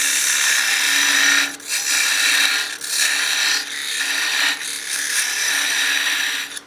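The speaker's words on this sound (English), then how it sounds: "And with this parting tool in particular," A parting tool cuts a wine glass spinning on a wood lathe at around 2000 rpm, making a harsh, steady scraping hiss broken by several brief pauses as the cut lifts, up close and without talking.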